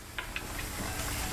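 Chopped chives hitting a hot pan for chicken colombo, a soft steady sizzle and hiss with a few light stirring scrapes, close and quiet, no voice.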